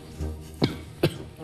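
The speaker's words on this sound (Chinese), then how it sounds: "我不是看到你的积分低在咳嗽，我是呛到" A person who has just choked on something coughs twice in quick succession, sharp and close, with a quieter throat sound just before.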